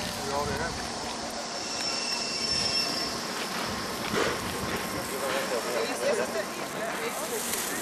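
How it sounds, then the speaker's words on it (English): A train pulling into Flam station at the foot of a fjord in Norway, heard as a steady rumble with faint wheel squeal, under and between people talking nearby. "The train just came in."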